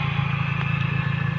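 A Honda Civic fitted with a Hiest body kit idles under the hood, a steady close low engine hum with an even pulsing rhythm and no talk.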